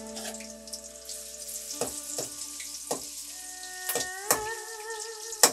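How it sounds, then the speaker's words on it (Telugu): Green chillies frying in hot oil in a kadai, a close, steady crackling sizzle broken by several sharp spatters and metallic clinks of stirring, with no one talking. "ఆయిల్ హీట్ అయ్యాక ఇందులో పచ్చిమిర్చి వేసి ఒకసారి"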